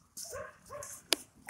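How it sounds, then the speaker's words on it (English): A dog gives a few short yipping, whiny barks close by, then a sharp click and the start of another bark, rising and falling in pitch. "That's my dog, Doggy."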